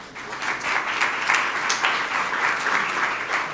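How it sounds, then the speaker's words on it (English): Audience applause for a speaker at a Papers We Love technical talk, a steady wash of many hands clapping for about three and a half seconds at moderate level, fairly close, with no voices over it. "Give a round of applause for Ben."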